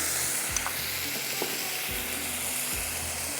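Onions and tomatoes sizzling in a pan over a high flame, a soft steady crackle with occasional low clunks from stirring, fairly quiet and with no talking.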